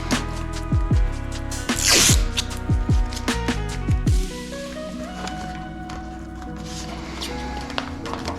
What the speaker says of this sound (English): I'm gonna back tape around our light.